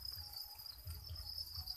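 Crickets chirp in a steady, continuous high trill inside a cricket cage, faint and unbroken with no other sound.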